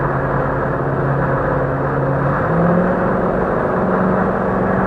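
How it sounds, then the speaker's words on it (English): A V8 Jeep Wrangler JK climbs a fairly steep grade under added throttle, its engine giving a steady, loud droning hum with a slight rise in pitch partway through, heard from inside the cab with no talking. "Now I'm going to give it some throttle to pick up some speed."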